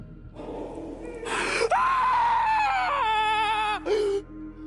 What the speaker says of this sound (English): A blood-curdling scream rips from his throat, raw, primal terror.